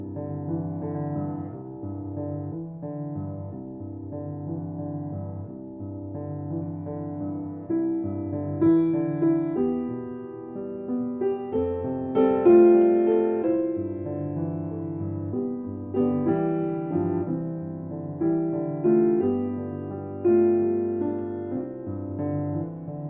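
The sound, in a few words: solo piano playing O Holy Night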